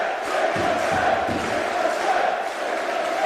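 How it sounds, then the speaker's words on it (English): A wrestling crowd in Manchester gives a standing ovation for Ricochet before his bout with Penta, a loud, continuous roar of cheering voices filling the arena with a few shouts rising above it. "Listen to this ovation. Already they're on their feet."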